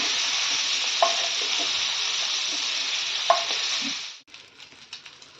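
Prawns rubbed with salt and turmeric fry in hot oil in a pan, a loud steady sizzle with a few soft stirring knocks, cutting off abruptly near the end to quieter scraps and clinks.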